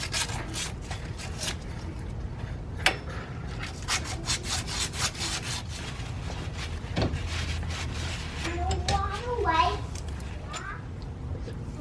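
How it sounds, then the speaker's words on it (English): Sandpaper rubs back and forth against a wheel hub part on a Chrysler Town and Country, making close, rhythmic scratchy strokes throughout, with a brief voice partway through. "Now we're just going to use some sandpaper and just gently clean this up a little bit."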